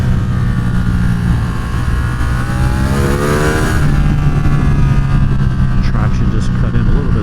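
A car engine revs hard while accelerating on a race track, a loud, sustained drone with a rising sweep through the middle, heard from inside the car under a speaking voice.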